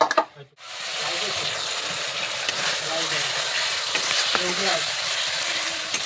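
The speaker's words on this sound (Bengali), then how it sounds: "তো পটলের গ্রেভি কষাচ্ছি, পটলগুলো দিয়ে দিলাম।" Pointed gourd (potol) gravy frying in a home pan, a loud continuous close sizzle and hiss after a brief clatter at the start, with a faint voice briefly underneath.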